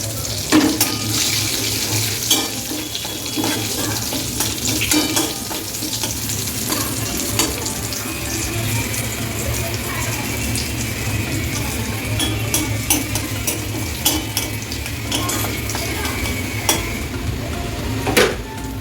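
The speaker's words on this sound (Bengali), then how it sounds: "আমি একটু জিরে ফোড়ন দেবো।" Cumin seeds sizzle in hot oil as a tempering for paneer curry, a steady dense crackle with occasional stirring clinks, close and fairly loud, with no talking.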